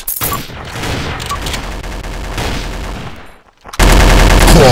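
Gunfire in the mobile first-person shooter Special Ops FPS PvP: a quick burst of loud automatic shots with booming impacts, a brief dip, then a sudden loud blast of sound at the end, no talking.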